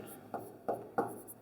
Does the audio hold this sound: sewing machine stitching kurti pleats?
no